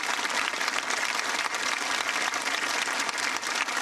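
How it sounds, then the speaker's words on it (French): A large crowd in Nice breaks into sustained applause during what was meant to be a minute of silence for the dead. The dense, even roar of many hands continues without a break and sounds broad and somewhat distant. "Ce furent d'abord des applaudissements"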